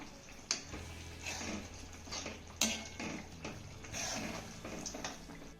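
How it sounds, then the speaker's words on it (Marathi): A lid lifted off a pot of steamed sandge vegetables, with a couple of sharp metallic clinks and light scraping knocks against the rim, close by and with no voices. "यावरचं मी झाकण काढतेय"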